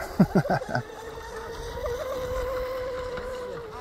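An Oxidean Scorpion RC outrigger boat, a 34-inch carbon craft, gives a few short sharp bursts of motor noise, then settles into a steady faint hum that carries on beneath a breezy outdoor background.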